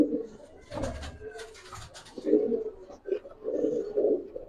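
A female Giribaz pigeon coos in low, rounded bursts, with a few repeated calls in the second half and some background rustling and voices nearby.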